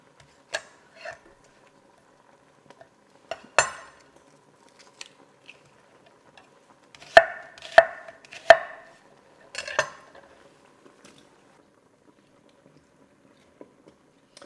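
A knife slices through onion in a home kitchen, giving scattered crisp cuts and a few louder crunchy chops against the board, close up with quiet gaps between strokes and no talking.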